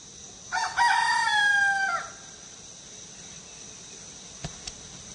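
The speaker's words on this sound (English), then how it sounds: "And the chickens are in the yard, probably a rooster, too." A rooster in a yard at sunrise crows once, a clear drawn-out call at moderate distance over a faint bed of insects, followed by quiet with a couple of small clicks.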